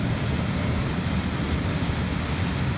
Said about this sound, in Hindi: और यहाँ पानी की जो आवाज़ है वो बड़ी ज़ोरदार किस्म की है